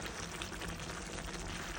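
Stewed beef simmering in a pot on the stove, a faint steady bubbling hiss that carries on evenly throughout.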